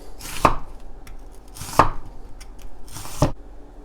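A knife slices a yellow onion on a cutting board for spicy stir-fried pork kimchi, three distinct, evenly spaced chops, each a close, crisp thud with a brief scrape.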